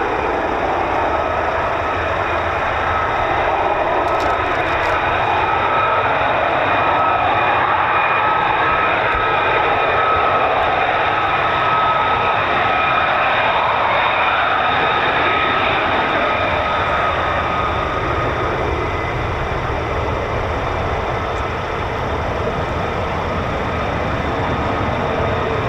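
F-35 fighter jets at RAF Lakenheath, home of the 48th Fighter Wing, produce a steady, distant jet roar with a faint whine. The sound holds a fairly even level throughout, with no voices over it.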